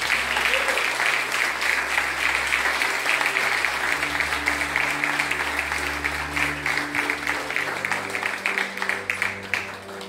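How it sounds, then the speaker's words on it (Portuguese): A church congregation claps in sustained applause, a dense wash of hand claps over a low droning hum that gradually thins toward the end. "Você pode aplaudir o Espírito Santo."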